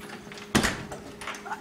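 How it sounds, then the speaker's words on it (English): A door is shut with a single sharp thud, followed by quieter rustling and faint movement in a room. "Shut the door."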